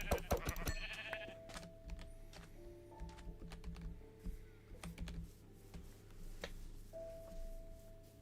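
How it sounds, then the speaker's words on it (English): A Minecraft sheep gives a few thin, wavering bleats at moderate distance, mixed with scattered computer keyboard clicks. "Sheep spotted."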